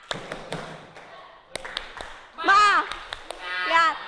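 A classroom group claps in a quick rhythmic pattern of sharp, close claps, followed by loud voices chanting together in unison.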